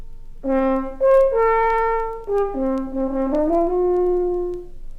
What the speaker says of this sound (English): The French horn, for example.